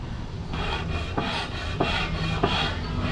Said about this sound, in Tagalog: salamin lang po yan na nilalagyan namin ng liha